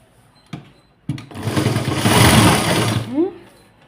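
A sewing machine stitches a blouse during a tailoring class, running steadily for about two seconds at close range after a couple of short knocks, then stopping.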